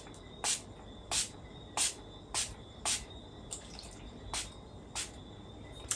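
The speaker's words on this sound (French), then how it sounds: "Je vais le sprayer sur tout mon teint." Makeup Revolution Neon Heat Strawberry Dazzle setting spray misted onto a face in about eight short, crisp hissing pumps at a steady rhythm, close and alone.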